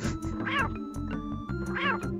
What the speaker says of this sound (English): He just meowed at the thing.